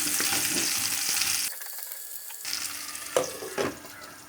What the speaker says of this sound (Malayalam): ഇടയ്ക്ക് ഇങ്ങനെ ഒന്ന് ഇളക്കി കൊടുത്തിട്ട് നമ്മൾക്ക് വാട്ടിയെടുക്കാം